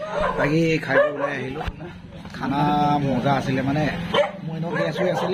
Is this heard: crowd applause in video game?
no